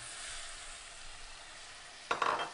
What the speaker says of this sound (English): And stir this into the lamb,